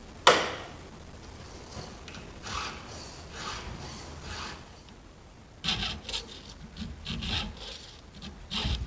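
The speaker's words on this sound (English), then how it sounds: "I always prefer filing the right side than I do the left side." A file rasps against a Stihl MS391 chainsaw chain in steady, close back-and-forth strokes at a moderate level, with a sharp metallic tap at the start and firmer strokes near the end.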